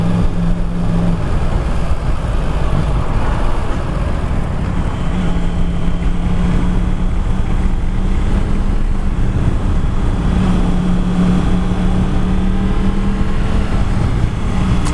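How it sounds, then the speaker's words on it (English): A Yamaha MT-10 motorcycle engine runs steadily and loudly throughout, its Akrapovic aftermarket exhaust giving a deep, throaty drone with a little wind noise mixed in. "I love the sound, but then it's got Akrapovic exhaust,"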